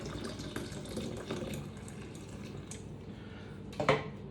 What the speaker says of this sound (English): And the last ingredient is sparkling water. So I'm just gonna add